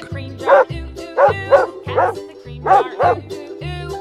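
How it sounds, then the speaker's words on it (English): A dog barks about six times in an even rhythm, short yappy bow-wows close by and fairly loud, with nothing else audible. "Dog."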